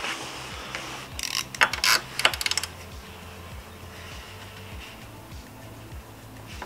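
Ratchet snugging up bolts on a rear brake master cylinder guard for a Honda CRF300L motorcycle, a short close burst of quick clicking turns followed by quieter ticks and low background hum.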